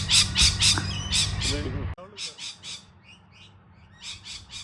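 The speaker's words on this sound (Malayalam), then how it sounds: "ഇവിടെ നല്ലൊരു മരം നിറയെ തത്തകളിരിക്കുന്നത്." Parrots of many colours perched in a tree in Australia give loud, harsh squawks in repeated bursts, with a person speaking over parts of it.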